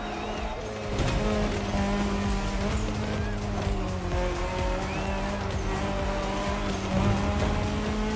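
A rally car in The Crew Motorfest racing game roars along with a sustained engine drone and repeated tire squeals and skids, fairly close and continuous, with faint talk underneath.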